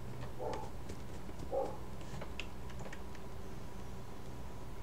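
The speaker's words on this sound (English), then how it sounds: "Hear those footsteps?" Animatronic footsteps in Five Nights at Freddy's 4 come as a few faint, hollow knocking steps, spaced irregularly against a quiet hissing background.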